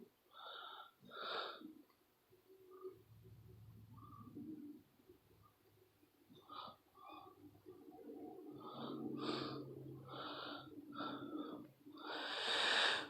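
Close, audible breathing with snorting and wheezy inhales and exhales, irregular and uneven, growing louder toward the end.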